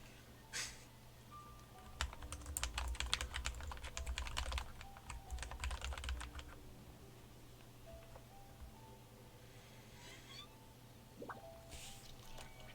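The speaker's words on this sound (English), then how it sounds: "Hang on, I mean my gaming keyboard." Keystrokes on a gaming keyboard clatter in a dense, rapid burst for several seconds, then trail off into a few scattered clicks against a quiet indoor background.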